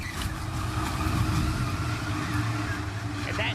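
A NASCAR stock car slides across the asphalt after contact at Daytona, a continuous rough grinding roar heard under commentary, with engine noise from the field blending in throughout.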